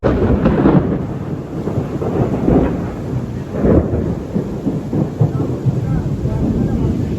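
Heavy rain pours down at a work site during a thunderstorm, with rolling thunder swelling over a loud, steady wash of rainfall.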